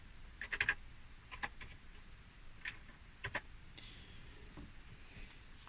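Keys clatter on a Commodore VIC 20 Maxi replica keyboard in a few quiet, close bursts of typing with pauses between them.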